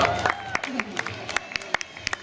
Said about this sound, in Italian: Un bel applauso al presidente Carlo